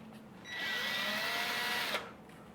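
A drill fitted with an epoxy mixing attachment spins up and runs steadily for about a second and a half, a close, high whirring that cuts off abruptly.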